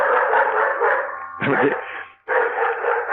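Several household dogs bark in a short burst to greet an arriving visitor, loud and close, with broadband yapping that drops out briefly before resuming.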